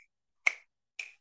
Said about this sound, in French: j'ai le claquement de doigts qui vient